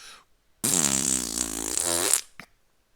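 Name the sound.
fart sound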